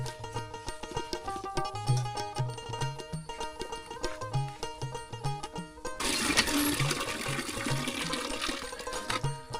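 Water running while sweet potato leaves are rinsed in a rural kitchen; a steady, loud rushing splash swells partway through, heard over continuous tonal background music.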